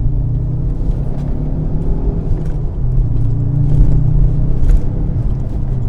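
A Fiat Coupe fitted with a Lancia Delta engine drops from third to second gear, its engine giving a steady, loud, close rumble from inside the cabin with no clear rev flare.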